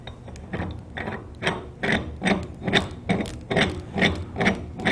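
Drive screw of a Dixon HB coupling expander being turned into a 2x2 coupling, a series of about eight rhythmic rasping, grinding metal strokes, close and fairly loud, with no talking.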